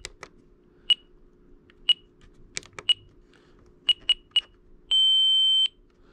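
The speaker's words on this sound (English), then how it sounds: "That was just the standard timer." A radio transmitter's standard timer alarm on an Align T-Rex 300X setup gives a series of short, sharp electronic beeps at irregular intervals, ending in one longer sustained tone, close and clear with no talking.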